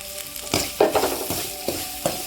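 Grated coconut sautés in a pan, a close, steady sizzle punctuated by several rhythmic scraping strokes of a spoon stirring it, with no voices.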